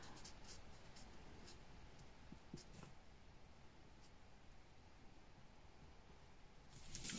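Soft scratchy strokes of a 11 Carmine twin marker colouring a small bow on a Disney New Year card, a steady quiet felt-tip rub continuing for several seconds with a few slightly firmer strokes.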